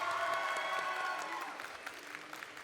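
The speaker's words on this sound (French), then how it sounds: "Des applaudissements pour Denji." Audience applause for an award winner at an anime awards ceremony, a dense burst of clapping that is strongest at first and then thins to scattered claps by the end.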